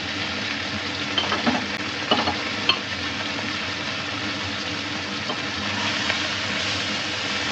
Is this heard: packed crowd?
no